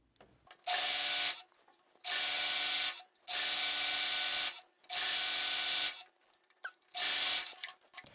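A sewing machine stitching fabric for a jumpsuit, running in five steady whirring bursts of about a second each, separated by short pauses with soft handling of cloth, close and clear.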